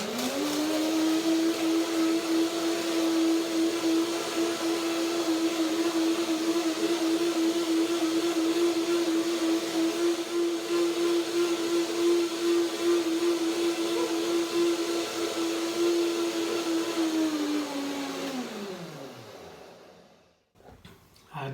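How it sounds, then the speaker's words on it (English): A kitchen blender runs steadily for a long stretch, blending cashews with cinnamon into a dense cream, a loud continuous whirring motor that winds down and stops near the end. "Small amount of cashews, blend a little bit longer, so maybe I don't need a second blending."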